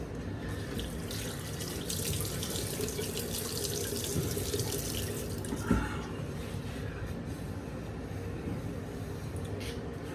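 Tap water runs steadily into a sink while someone wets their face before a shave, a continuous close hiss and splash with a small splashy bump partway through.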